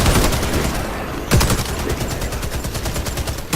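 Sustained rapid automatic gunfire rattles loudly and continuously at mechas in a video game, a dense machine-gun stream with a heavier burst partway through.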